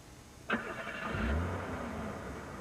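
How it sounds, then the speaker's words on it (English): A car engine turns over and catches outside, faint and somewhat distant, then settles into a low, steady idle. "I think that's Sam's car."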